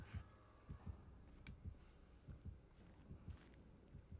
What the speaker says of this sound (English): If you hear heartbeats, it means the killer is probably nearby.